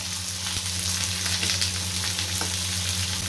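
Two large sliced onions fry in a pan with a loud, continuous hiss and crackle. Steady low hum underneath, no speech.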